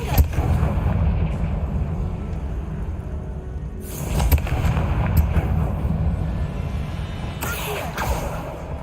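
A Confringo fire spell blasts in the Hogwarts Legacy video game, booming explosion bursts at about 4 and 7.5 seconds over a loud, rumbling game soundscape with no talk.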